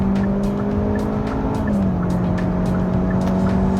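Hyundai Avante CN7 accelerating at full throttle in sport mode, a steady loud engine drone with a clear tone shift partway through, heard from inside the car with no talk.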